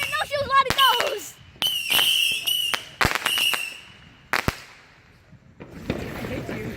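Backyard Fourth of July fireworks and firecrackers go off in a rapid series of sharp bangs, crackles and whistling shrieks, with a fizzing burst at the end, while excited voices shout nearby.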